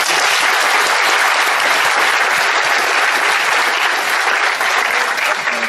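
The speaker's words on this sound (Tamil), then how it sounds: "இப்போ கை எல்லாருக்காக சேர்த்து ஒரு தடவை சந்தோஷமா தட்டலாமா?" Audience at a Tamil speech event applauds loudly and steadily, a dense wash of clapping from many hands that continues evenly throughout without pause.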